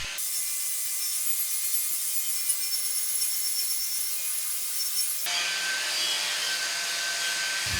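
A wire wheel grinder strips rust from steel cart wheels, a continuous harsh abrasive whir that holds steady, then shifts to a rougher, lower-pitched grinding tone partway through, close and loud with no talk.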